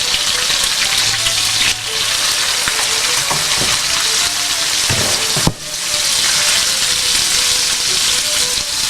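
Thin chicken steaks fry in a hot pan with a loud, steady sizzle and crackle, broken by a few brief bumps and spatters as the meat is moved.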